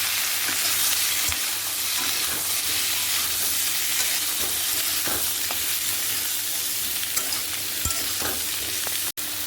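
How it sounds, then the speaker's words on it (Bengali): Cut mixed vegetables fry in a kadai that was just used for bitter gourd, with a constant loud sizzle and occasional spatula stirs and scrapes, and a sharp knock near the end. "উচ্ছে তুলে নেওয়ার পরে সেই একই কড়াইতে আমি দিয়ে দেবো কেটে রাখা বাদবাকি সমস্ত সবজি"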